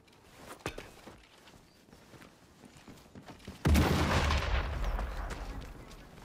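Gunshots in Sniper Elite 5: a few faint distant cracks early on, then a loud close blast with a long rumbling tail, over quiet game ambience.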